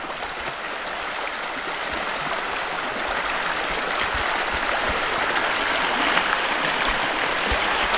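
A forest stream in the woods of the Vologda region flows steadily, its continuous rushing, gurgling water filling the whole stretch at an even, moderately close level, with no voices.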